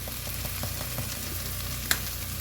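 Spices for Mexican rice, garlic powder and onion powder, fry in a pan and are stirred, giving a steady close sizzle with soft scraping strokes and one brief sharper clink, no talk.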